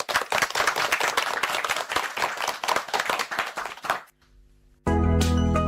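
Group of children clapping to close a children's radio programme on Akashwani Hisar, dense hand claps for about four seconds that fade out, followed by a short pause and then music starting loudly.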